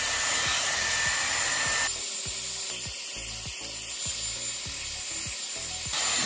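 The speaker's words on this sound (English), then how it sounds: "Start off by drying the roots and then finishing the ends and then cooling the hair down with the cool shot." A Dyson Airwrap with round brush attachment blows a loud, steady rush of air while drying hair, with rhythmic brushing and scraping strokes cutting through the airflow partway through.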